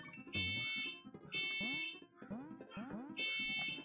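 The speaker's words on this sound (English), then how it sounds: "that's someone's car alarm" A nearby car alarm cycles through its patterns, repeated sweeping whoops alternating with steady high electronic tones in a regular loop, loud and alone.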